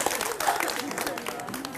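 Brief applause from the audience at a Maulid Barzanji dialogue gathering, dense clapping at moderate level with voices mixed in underneath.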